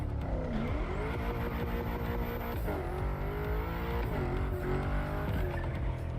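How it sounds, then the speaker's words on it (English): A BMW racing in The Crew Motorfest revs steadily, its engine tone rising and falling through gear changes, with faint tire squeal running through the steady drone. "Искам се да карам с това BMW"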